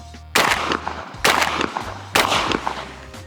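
A Benelli Ethos Sport 28 gauge shotgun fires three loud, sharp shots with Federal ammunition. The shots come at an even pace about a second apart, and each one rings out briefly.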